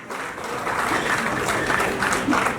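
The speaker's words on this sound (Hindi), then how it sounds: "जितनी भी मॉम है वो सब अपने लिए जरा जोरदार तालियां बजा" An audience at an education awards ceremony claps in a steady burst after a brief quiet start, the applause dense and fairly close, with some murmuring mixed in.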